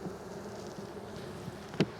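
Honey bees buzz steadily around an open hive during a frame inspection, a constant low drone with one brief louder buzz as a bee passes close.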